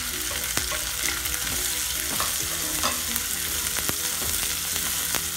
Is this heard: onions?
yes